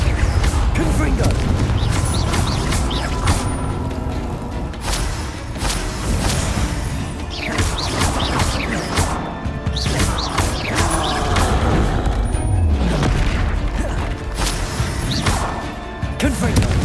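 Repeated Confringo fire spell blasts in the video game Hogwarts Legacy, a string of booming crashes, thuds and whooshes amid mechanical battle clatter, with a voice calling out spells throughout.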